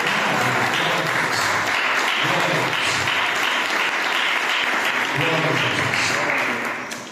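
A church congregation claps hands in praise, a dense, sustained wash of applause filling the room for several seconds, with voices mixed in beneath before it fades at the end.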